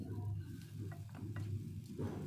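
An omelette and sliced scallions are stirred in a pan with the stove switched off, giving a soft steady sizzle with several light scraping strokes of a utensil, close and fairly quiet, with no talk.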